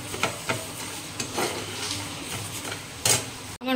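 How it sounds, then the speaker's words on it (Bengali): Mung dal being dry-roasted in a pan, scraped and stirred in a rhythmic series of close scratchy strokes with a faint sizzle beneath, no voices. "এখানে মুগের ডালটা আমি ভালো করে একটু ভেজে নিচ্ছি।"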